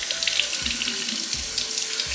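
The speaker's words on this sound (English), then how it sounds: "I'm gonna go ahead and rinse them off over here." A kitchen faucet runs as four mushrooms are rinsed under it, a close, steady hiss of flowing water with small splashy variations from the stream hitting the mushrooms.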